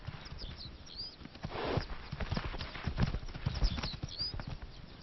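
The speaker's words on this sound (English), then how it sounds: "The disruption sets off a rare fight between mares." Mares fighting, with scuffling hooves and thuds over uneven ground at moderate distance, fairly faint and irregular.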